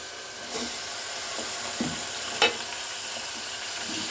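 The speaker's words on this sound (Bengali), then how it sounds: "এবার আমি এতে দিয়ে দেব মাংসটা" Meat tipped into a pan of reddened browned onions for a meat and potato curry gives a soft, steady sizzle and hiss, with a few faint stirring scrapes and one brief sharp clink near the middle, and no talking.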